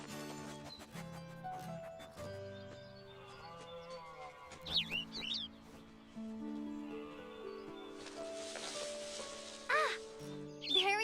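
Cartoon birdcall in an animated Lassie adventure: short warbling whistles and chirps break out over a busy musical score, with a brief tweeting burst near the middle and more toward the end.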